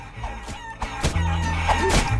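Video-game chickens in Guacamelee! cluck and squawk in quick, bright bursts, several calls overlapping in close succession over a game soundtrack.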